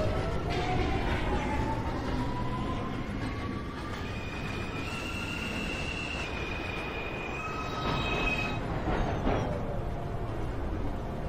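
An NYC subway 2 express train pulls into 231 Street station with a loud rumble and high wheel squeals sliding in pitch, the heavy rolling noise steady throughout with no talking.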